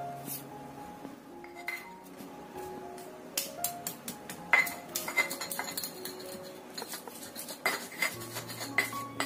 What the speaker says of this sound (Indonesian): Ini kita ulek dulu sampai halus.